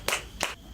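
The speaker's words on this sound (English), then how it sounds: "let's clap for him." Two quick, sharp claps from children at a school in Ghana ring out close by, spaced about a third of a second apart.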